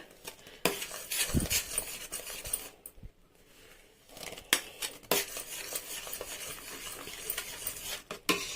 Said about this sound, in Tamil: இந்த ரவை நம்ம கொஞ்சம் கொஞ்சமாக சேர்த்து அப்படியே மிக்ஸ் பண்ணி விடணும்